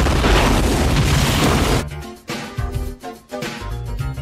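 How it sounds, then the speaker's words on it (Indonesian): A massive C4 explosion in a film roars, loud and sustained, then breaks off into rumbling debris and a few heavy impacts. "tembakan itu mengenai C4 dan ledakan yang sangat besar pun terjadi"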